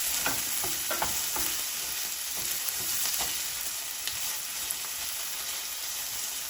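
Sardine pieces fry in a pan with a dense, constant hissing sizzle, broken by occasional soft scrapes and taps of a stirring spoon, close and steady throughout, with no talk.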